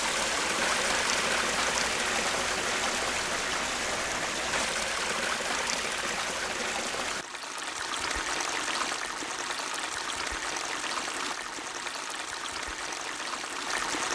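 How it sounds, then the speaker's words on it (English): Steady rushing and splashing of a small waterfall pouring into a pond, continuous and close, with a slight drop in intensity partway through. "it's nice to hear the waterfall running"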